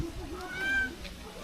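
A cat gives a short, thin meow at a market stall, fairly faint against background noise and nearby chatter.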